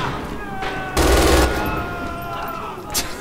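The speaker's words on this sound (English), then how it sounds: "We're being shot at." MG 42 machine gun fire in the video game Red Orchestra 2: a dense, loud burst of rapid shots for about half a second, then quieter distant battle noise and one more sharp shot near the end.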